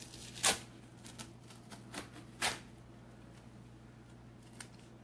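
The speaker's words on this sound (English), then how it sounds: "I'm going to peel this off so that I can" Painter's tape being peeled off painted wood, a few short crackling rips spaced apart, the loudest near the start and middle, over a low steady hum.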